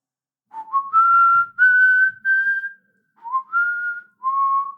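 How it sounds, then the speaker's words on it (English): A person whistles a short melody of six clear, sliding notes, with brief gaps between phrases, close and alone against silence. "Whistling isn't silent."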